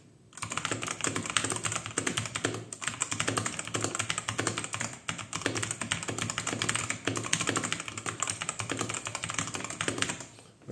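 A Robot Workmate IV mechanical keyboard is typed on in a fast, steady stream of clicky keystrokes, close and continuous with brief pauses.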